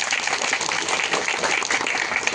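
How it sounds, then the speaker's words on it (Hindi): Steady applause from an audience at a public gathering, dense clapping continuing evenly throughout. "उसको भी प्यार भरा तालियों से स्वागत करें"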